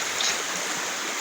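A river flowing along a mountain nature trail, a steady broadband rush of water that stays loud and even throughout, with no voices over it.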